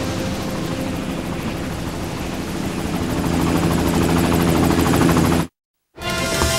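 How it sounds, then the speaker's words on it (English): Helicopter in the PlayStation 1 covert-ops game Covert Ops: Nuclear Dawn, a loud continuous rotor thrum and engine drone that builds slightly, then cuts to brief silence before resuming. "Your immediate return by chopper is requested."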